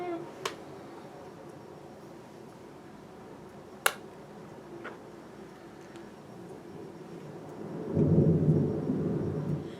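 Thunder from a lightning storm, a low rumble that swells near the end after a few sharp crackling snaps earlier, heard at a distance over a quiet background hiss.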